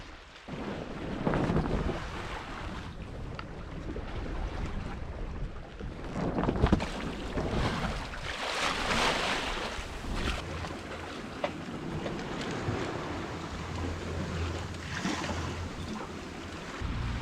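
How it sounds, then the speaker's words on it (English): On a sailboat heading toward the Treshnish Isles, wind buffets the microphone in a constant blustery roar while water washes against the hull beneath it, with occasional louder gusts. "There's a little bit of wind, so we're moving, not very fast."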